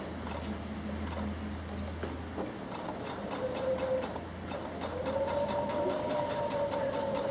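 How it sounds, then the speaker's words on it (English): Sewing machine back stitching a quilt binding, a steady fast mechanical whir and ticking running continuously at moderate loudness, with no voices. "you're going to start here and back stitch till 3/8 away"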